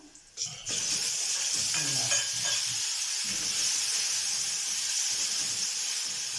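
Potatoes sizzling steadily in a hot pan with oil, a continuous bright frying hiss after a brief initial clatter, close and loud throughout with occasional faint stirring sounds.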